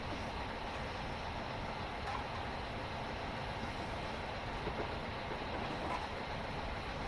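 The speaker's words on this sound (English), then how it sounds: "Another train over there." Train noise on the London to Brighton railway line, a dense, steady rumble and rolling clatter that holds evenly throughout with no pauses.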